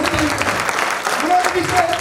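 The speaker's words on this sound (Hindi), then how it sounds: "एक बार उनके लिए जोरदार तालियां।" An audience claps in a short, dense burst of applause filling the room, with a host's voice briefly heard over it.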